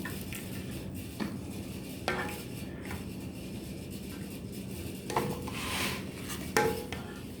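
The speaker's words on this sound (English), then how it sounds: "I'm going to divide the solid parts as evenly as I can. I think I'll do 2 scoops." A sausage and egg casserole being scooped into servings, with soft scraping and occasional clinks of a utensil against the dish over a quiet steady background.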